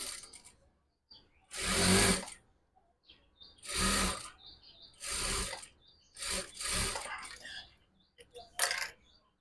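Short bursts of a sewing machine stitching a hijab and niqab cap, four or five loud runs of rapid needle chatter separated by quiet pauses and small handling noises.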